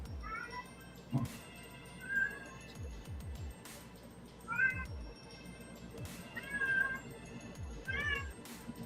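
A cat meows repeatedly, several drawn-out, wavering cries spread over several seconds, fairly close and clear against a quiet room with faint background noise.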